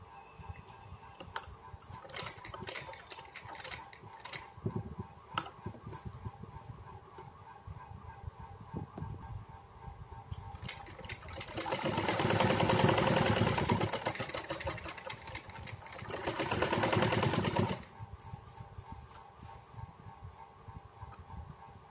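A sewing machine stitches a salwar belt in two clear runs of motor hum, the first longer and the second shorter, separated by quieter handling and fabric noise.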